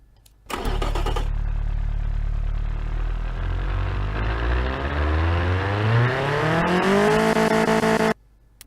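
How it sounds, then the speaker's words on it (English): A 120 hp Emmandoire Poirot's engine in BeamNG starts, idles briefly, then revs steadily upward in one long rising sweep, loud and close, cutting off abruptly at the end with no talk. "I managed to get out at least 120 horsepower and 164 newton meters, and this is what the vehicle sounds like"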